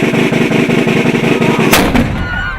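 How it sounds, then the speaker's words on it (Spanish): Havana's nine o'clock cannon booms once, a loud, close blast preceded by a rapid rattling roar and followed by a fading echo. "Ya son las 9 de la noche y retumba nuestro cañonazo antiimperialista."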